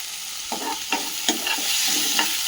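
Green chili and curry leaves sauté in oil in a pan, a continuous crackling sizzle punctuated by four or five sharp scraping stirs of a spatula, with no voices.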